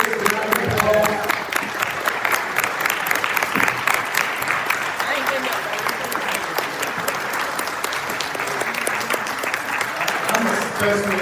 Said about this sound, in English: Let's give these candidates a round of applause.